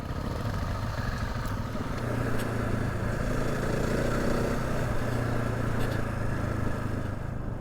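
Dual-sport motorcycles, a Honda CRF250L, Husqvarna 701 and BMW F650GS, ride a trail with a steady, loud engine drone and clattering throughout, close and continuous with no talk.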